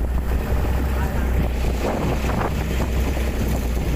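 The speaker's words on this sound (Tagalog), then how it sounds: "Dito pala pinapagana natin yung pangalawang makina para mapagtas natin ng mabilis yung ating patutunguhan." Passenger boat at sea running its second engine, a dense roaring engine rumble mixed with wind buffeting and splashing water, steady and loud throughout.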